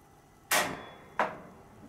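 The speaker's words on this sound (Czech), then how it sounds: "Zapálím hořák." Two sharp clicks about half a second apart, each with a brief whooshing decay, like a gas burner igniter sparking and catching.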